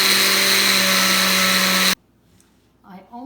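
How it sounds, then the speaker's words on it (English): A blender whirs loudly and steadily as it purees a sauce with sriracha, then cuts off abruptly, leaving near silence before a faint voice starts. "And then just blend it up until it's nice and smooth."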